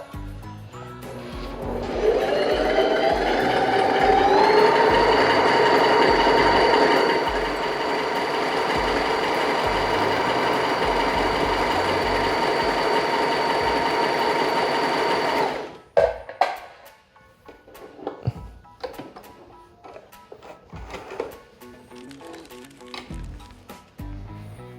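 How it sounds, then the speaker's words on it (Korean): A Lion 5500A semi-industrial sewing machine stitches a reinforcement pattern in a steady, fast whirring run for about fifteen seconds, then stops, leaving scattered handling clicks and light clatter. "자, 보강 바느질 패턴입니다. S1으로 설정을 해서 바느질 해볼게요."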